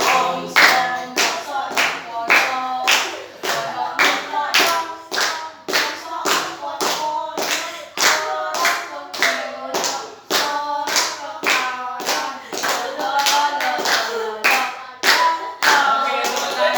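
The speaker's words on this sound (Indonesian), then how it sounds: "Nanti kita semua tepuk tangan." A group of children claps together in steady rhythmic bursts along with a sung tune during a group counseling session, the hand claps loud and close with singing voices woven between them.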